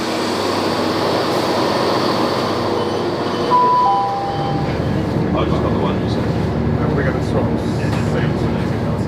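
Loud, continuous rumble of a train riding the Whitefield branch line, heard from on board, with a brief metallic squeal partway through and steady wheel and track noise continuing after.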